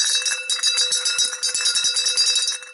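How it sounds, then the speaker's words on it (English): A small metal bell on a Life of the Party novelty item from an auction find jingles in rapid, continuous shaking, bright and close, with no voices. "sounds like a bell"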